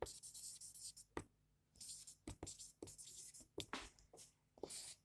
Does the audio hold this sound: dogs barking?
no